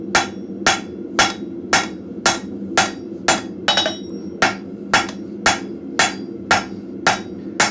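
A blacksmith hammers hot metal on an anvil in a forge shop, striking in a steady, even rhythm of about twelve sharp, ringing blows, close and loud, with a constant low hum running underneath.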